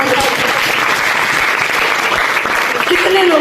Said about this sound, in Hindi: एक बार यीशु के जलाल के लिए जोरदार ताली